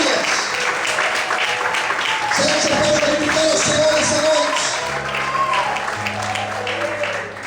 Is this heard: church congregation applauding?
yes